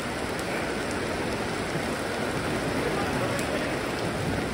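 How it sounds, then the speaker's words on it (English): Heavy, relentless rain on a mountain road in Andorra, a dense, even hiss of downpour close by and constant for the whole stretch, with no voices. "it's been like over half an hour of the gnarliest rain ever"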